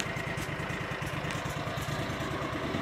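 Cub Cadet 3205 garden tractor with a liquid-cooled Kawasaki engine and a failing hydrostatic transmission, its swash plate shifting as the pedals are pushed, making a steady engine drone with a faint mechanical whine underneath.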